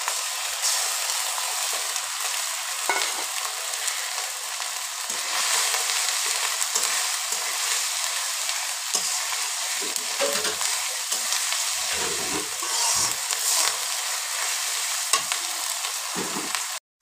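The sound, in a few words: frying spices with onion and garlic for mutton curry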